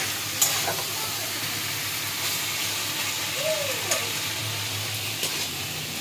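Fried rice sizzling in a pan at home, a steady soft frying hiss with faint stirring clinks throughout, quiet and continuous with no talk.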